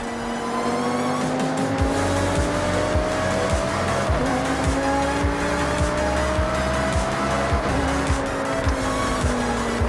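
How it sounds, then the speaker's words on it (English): In Forza Horizon 6, a V10-powered supercar roars loud and close. The engine pitch rises and falls through the gear changes, and tires squeal and skid through the corners. "this V10-powered supercar could manage a top speed of 205 miles per hour"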